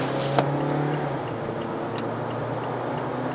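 A 2013 Mazda CX-5 with a 2.0L engine and two-wheel drive hums steadily from inside the cabin as the throttle is held partly open, a low constant drone with faint road noise and a light knock near the start.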